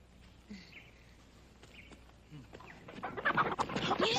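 A chicken gives a few scattered soft clucks, fairly close, before a louder burst of scuffling and agitated noise at the end.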